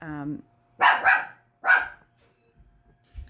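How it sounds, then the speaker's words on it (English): A dog barks twice indoors, two sharp bursts about a second apart, partly behind a voice heard at the start during a conversation. "sorry about Mitsu barking there."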